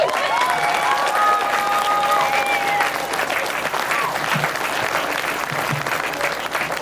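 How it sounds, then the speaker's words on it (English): Steady, dense audience applause fills a room at a benefit event, holding loud and continuous for several seconds with a few high whistles and faint cheers mixed into the clapping. "So I'd like a round of applause for him."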